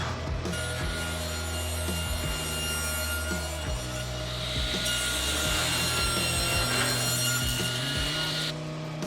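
A wooden part of a shoe-shaped lamp being sanded by hand, a steady close rubbing and rasping in repeated strokes, with no talk.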